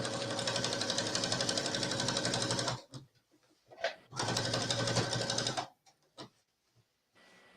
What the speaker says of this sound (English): stitching the end placket down. Oh, this is a lot of thread to stitch through.